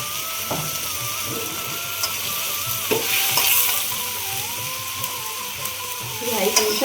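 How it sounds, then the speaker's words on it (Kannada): Beetroot palya sizzles steadily in a pan while a spoon stirs and scrapes it at intervals, close and continuous. "ಇದು ಫ್ರೈ ಆಗ್ತಾ ಇದೆ."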